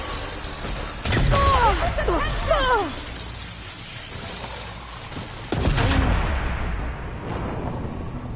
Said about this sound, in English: Hopefully the Tanakh can finally see shots from that ballista.